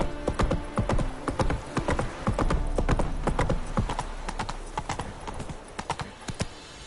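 Galloping horse hooves from The Witcher 3, rapid loud clip-clop beats in a continuous rhythm that loosens toward the end, with a possible brief whinny.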